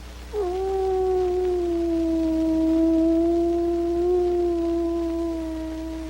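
A dog howling as a film sound effect in a 1961 television drama, one long sustained, wavering mournful tone held steadily for several seconds before easing off.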